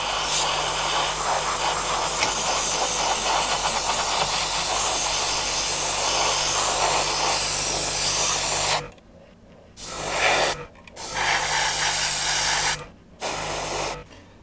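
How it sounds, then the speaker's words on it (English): Airbrush spraying Kaleido ColorWorks gloss black paint, a steady close hiss that runs for about nine seconds and then comes in several short bursts separated by gaps of silence. "I've already loaded the airbrush up, so I'm going to shove my mask on, we're going to put it down and see what happens."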